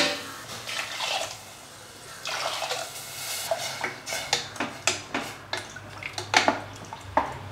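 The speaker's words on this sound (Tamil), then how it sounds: "காய் முழுகிற அளவுக்கு நம்ம தண்ணி சேர்த்துடலாம்." Water poured into a cooker over vegetables: a steady splashing pour that breaks into irregular drips and small clinks of the vessel, close and moderately quiet, with no talking.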